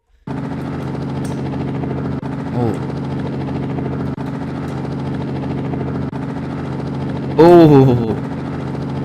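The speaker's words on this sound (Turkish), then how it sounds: "Direkt helikopterle başladık da bir dakika." Helicopter in a GTA-style video game, a steady loud rotor drone with a close engine hum, punctuated by brief whooping vocal exclamations near the start and end.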